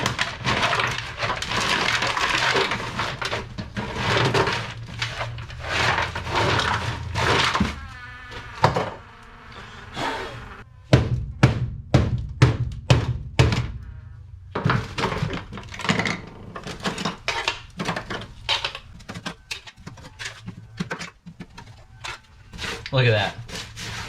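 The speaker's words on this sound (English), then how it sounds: "give it a couple whacks, and see how it comes off" Hammer whacks knocking dry-ice-frozen sound deadening off the floor of an E82 car being built for drifting: sharp irregular knocks and cracking thuds, sometimes in rapid clusters, with scraping and a voice talking in between.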